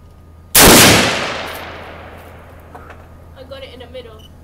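A single sharp gunshot fired at a shooting range target, loud and close, with a long decaying echo trailing off, followed by faint talking in the background.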